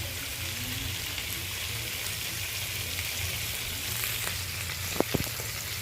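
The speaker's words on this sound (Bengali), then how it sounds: "এই তেলেই আমি কয়েকটা কাঁচা লঙ্কা ভেঙে দিয়ে দেব।" Green chillies, some broken and some whole, frying in hot oil in a kadai, giving a steady close sizzle with a few sharp crackles near the end.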